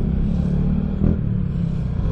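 A Vespa scooter fitted with an upgraded muffler rumbles steadily, close and loud, as it rides through a cramped spot, its low engine drone holding constant with a slight swell midway.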